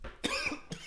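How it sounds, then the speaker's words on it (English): A close, single sharp cough, a quick double burst followed by a smaller trailing cough, with no talking. "It's the cough you have at the beginning of a movie."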